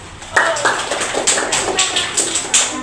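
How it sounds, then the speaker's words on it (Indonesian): A class of students claps together in a classroom in a short burst of rhythmic applause, loud and close, with the claps merging into a steady patter. "Selanjutnya tepuk tangan."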